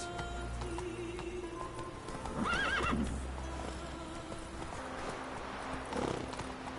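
A horse in The Witcher 3 game: steady hoofbeats run through the clip, and a clear whinny rises near the middle over a low ambient background.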